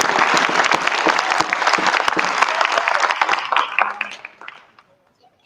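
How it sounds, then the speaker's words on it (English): Audience applause at an evening court of a kingdom arts and sciences and rapier championship event, a loud, dense burst of clapping that gradually thins out and fades to near silence at the end. "I'd like a quick round of applause for Her Grace."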